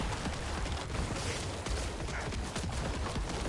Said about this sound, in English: Corpse explosions again.